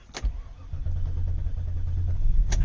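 An Oldsmobile Aurora engine cranks and catches, settling into a steady low rumbling idle close by, with a sharp click at the start and another near the end.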